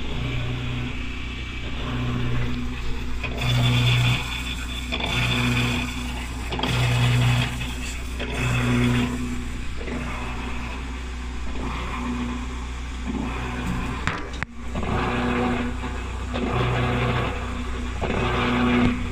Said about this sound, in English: let me see if I get a dryer going at least.